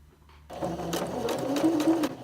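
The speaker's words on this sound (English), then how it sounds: "Okay, and now I'm going to backstitch." A domestic sewing machine runs steadily in reverse, backstitching fabric with a close, even whirring hum and rapid needle clatter that starts abruptly after a quiet moment.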